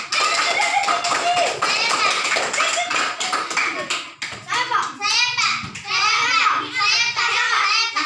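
Children clap their hands in a classroom in short bursts of taps, with lively kids' voices and chatter running over and between the claps throughout.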